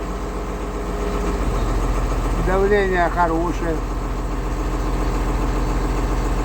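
A YTO NLX 1304 tractor's diesel engine idles nearby with a steady low rumble, while someone briefly speaks over it partway through.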